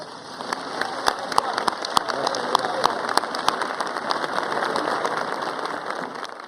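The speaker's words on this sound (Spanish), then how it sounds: "yo solicito, señor presidente, un minuto de aplausos" Sustained applause from a crowd in a legislative chamber, dense rapid clapping continuing steadily throughout with a constant wash of noise.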